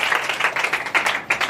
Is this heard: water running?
no